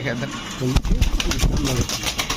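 A pigeon coos close by while people talk over it, with some handling noise and a sharp thump.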